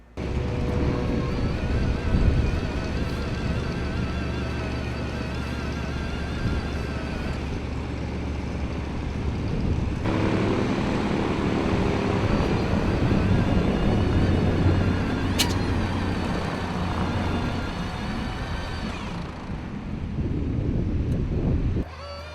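Twin Rolls-Royce engines of a de Havilland Mosquito running on the ground, a steady loud droning roar with low throbbing and wind buffeting on the microphone, the tone shifting partway through, with no talk.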